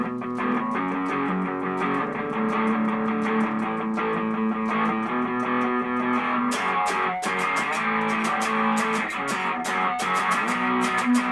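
Distorted electric guitar played through an Electro Harmonix Memory Toy analog delay pedal, a continuous loud run of sustained chords and notes with echoing repeats and sharper picked attacks toward the end, no talking.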